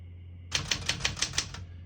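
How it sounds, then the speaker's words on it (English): Keys struck on a 1972 Smith-Corona Galaxie Twelve portable typewriter: six crisp, evenly spaced clacks in a steady rhythm, close and clear, over a low hum, with no talking. "all the keys type nice and none of them skip or stick"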